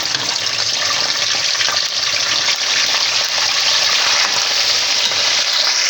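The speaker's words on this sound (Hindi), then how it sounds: "तो अब जो है चिकन डाल देते हैं और थोड़ी देर चिकन को भूनते हैं।" Chicken and tomatoes frying in ghee in a karahi, a loud, steady, close sizzle with a dense crackle throughout and no talk.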